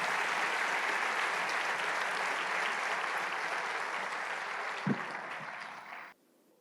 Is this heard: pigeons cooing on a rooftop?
no